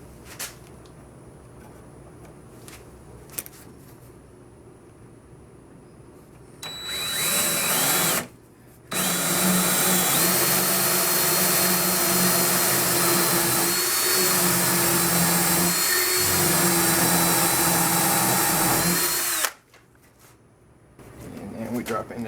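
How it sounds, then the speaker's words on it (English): A power drill bores a dowel hole in wood for a DIY chest of drawers face frame. After a quiet start with light clatter, a loud steady whine runs for about twelve seconds, then stops. "So here is where I need to drill for the dowel."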